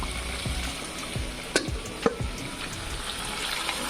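Chicken fries in a pan with a low continuous sizzle and a few scattered clinks and stirring knocks, close up with no voices.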